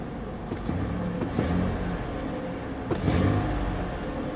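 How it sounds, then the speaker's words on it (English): A 2004 Ford Freestar Limited engine idles steadily close by, with a few brief revs swelling and falling away over four seconds, nobody talking. "I'll rev it a little."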